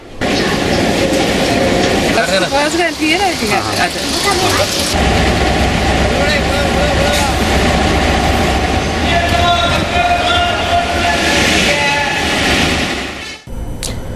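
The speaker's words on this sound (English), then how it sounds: "waiting to board the Udarata Manike train bound for Colombo Fort from Badulla" The Udarata Manike train from Badulla to Colombo Fort rumbles and clatters steadily for most of the stretch, loud and close, with a brief squealing passage early on and an abrupt cutoff near the end.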